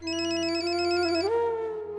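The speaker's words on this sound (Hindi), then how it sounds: "किसका फोन है?" A telephone ringtone sounds loud and close, a sustained electronic tone that steps up in pitch partway through and then cuts off, inside a quiet home.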